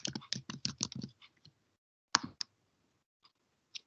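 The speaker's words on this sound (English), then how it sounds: "you just go ahead, type it" Typing on a computer keyboard during an Android programming session: a fast burst of close keystroke clicks for about a second, then a few scattered taps with quiet gaps between them.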